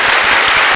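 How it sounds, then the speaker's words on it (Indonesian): Audience applause at a Sinau Bareng gathering with Cak Nun and Kiai Kanjeng at a university, a brief, dense burst of clapping filling the space, close and loud with no voices. "Oke, tepuk tangan."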